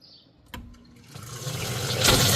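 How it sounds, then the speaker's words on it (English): A Hoshizaki ice machine's replacement water pump starts up: a sharp knock, then a rising gush of splashing, churning water that grows louder and fuller toward the end. "So you can see my pump is working."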